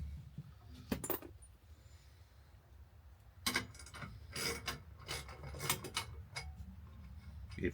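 A 13 mm metric wrench turns a nut during work on cutting a tree out of a fence, giving scattered sharp metallic clicks and clinks over a low steady rumble.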